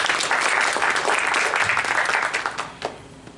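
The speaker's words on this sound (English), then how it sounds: "great applaud together one more time" Audience applause at a conference session on Islam and Muslims, a dense, fairly loud round of clapping from a large crowd that holds steady and then thins out near the end.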